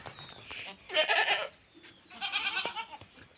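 A goat on a farm bleats twice in quick succession, loud and close, each cry wavering for about half a second over quiet background noise.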